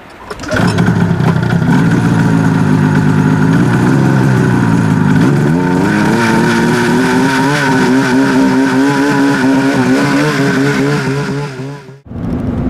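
A snowmobile engine runs hard on a ride in the California high country, a loud, steady, close drone that climbs in pitch partway through, holds for several seconds and then cuts off abruptly.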